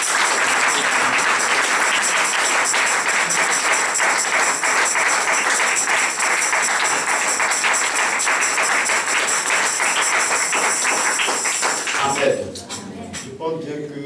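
A church congregation applauds in sustained, dense clapping that fills the room, loud and steady for several seconds before tapering off abruptly near the end, with some voices mixed in.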